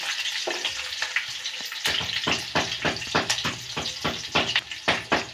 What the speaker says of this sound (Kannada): ಎಣ್ಣೆಯಲ್ಲಿ ಫ್ರೈ ಆಗಬೇಕು.